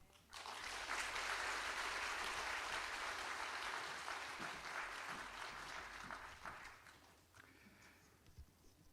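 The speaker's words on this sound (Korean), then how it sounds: "존경하는 황 목사님, 성령을 맞으시고 성도들의 박수를 받으면서 또 영광스럽게 이렇게 은퇴식을 하게 되신 것 진심으로 축하를 드립니다" A church congregation applauds at a pastor's retirement and elder-pastor installation service, with steady, dense clapping filling a large room for several seconds before thinning out and fading.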